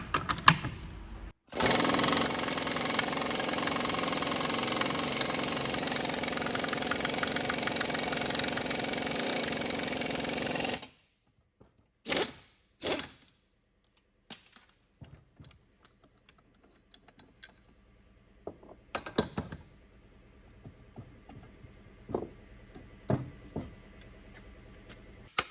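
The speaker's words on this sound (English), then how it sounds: "We're gonna go ahead and press the bushing this way." A steady whirring, buzzing drone of a press pushing a bushing out of a car control arm runs for about ten seconds, then stops, followed by scattered sharp clicks, knocks and metallic taps, no talking.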